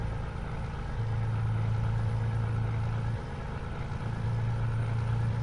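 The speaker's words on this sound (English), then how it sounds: "Such a nice sounding truck, this too, with Critchin Barnes sound pack on it." A heavy truck engine idles in Euro Truck Simulator 2 with a Kritchin Barnes sound pack, a steady low rumble holding alone with a faint droning hum that drops out briefly.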